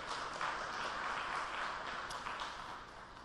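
Faint, continuous clapping from an audience at an engineering award ceremony, an even patter of many hands at a distance.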